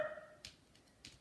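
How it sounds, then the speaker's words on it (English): A dog gives two sharp barks about half a second apart, fairly faint, with quiet room noise between them and no talk. "Stop barking!"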